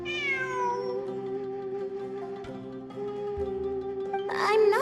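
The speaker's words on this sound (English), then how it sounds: "I'm not hearing things. It really is a cat." A cat meows in a fantasy video game event, one drawn-out call with a falling pitch up front, then quieter mews over a steady musical drone, ending in a louder rising cry.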